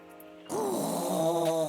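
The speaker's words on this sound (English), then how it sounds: "The fucking snoring." Snoring in a game scene, a drawn-out nasal rasp with wavering tones that starts abruptly partway through and continues steadily and loudly to the end, with no talk over it.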